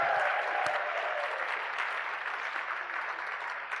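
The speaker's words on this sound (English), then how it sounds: "That was a lovely welcome you just gave me with applause" An audience at a celebration event claps in warm welcome for a guest speaker, a full, sustained round of applause that gradually eases off.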